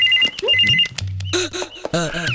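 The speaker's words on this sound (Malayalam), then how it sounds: "ആ ഫോൺ എടുത്തിട്ട് പറയാം." A telephone bell rings in short electronic bursts, loud and near, while people talk over and between the rings.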